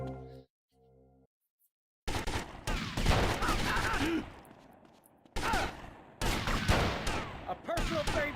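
Dense gunfire in GTA Vice City Definitive Edition, sustained crackling volleys in loud stretches broken by brief pauses, following a short quiet beep-like tone at the start.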